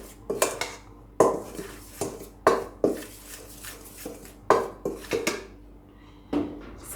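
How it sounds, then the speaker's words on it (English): A spoon scrapes and knocks against a bowl while combining a sweet potato pudding mixture outdoors, giving repeated close clinks and scrapes in uneven bursts. "I'm just gonna use a spoon and just to combine everything like so"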